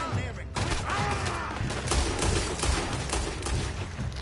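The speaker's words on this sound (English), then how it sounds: "How many shots do you have to make at point blank to fucking hit him?" Rapid gunfire at point blank in the video game Red Dead Redemption 2, a dense run of loud shots and booms rolling on throughout, with a voice talking faintly underneath.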